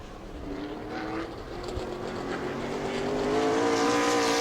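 Modified race car on a qualifying lap at New Smyrna, its engine note rising and growing louder as it approaches, a sustained revving whine alone without talk.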